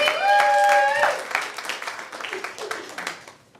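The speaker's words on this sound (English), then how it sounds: "give her some applause" Audience applause at an improv comedy tournament show, brief clapping and cheering rising around a voice early on, then thinning into scattered claps under crowd noise.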